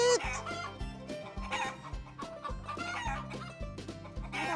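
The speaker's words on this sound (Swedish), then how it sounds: "Vi har frittgående hönor." Free-range hens clucking on a small farm, a close, steady run of repeated clucks with a rooster-like call mixed in, under occasional talk.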